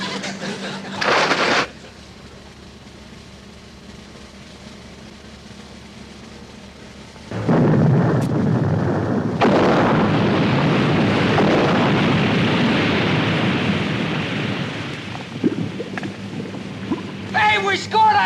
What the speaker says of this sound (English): Set the depth charges at 50 feet